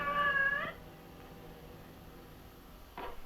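Cat from the 1963 film The Sadist giving a short, clear meow at the start, then a quiet stretch of faint hiss before a brief second sound near the end.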